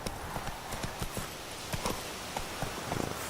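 Horse hooves clip-clop at a steady riding pace in The Witcher 3, a close run of evenly spaced hoofbeats over a soft background hiss, with no voices.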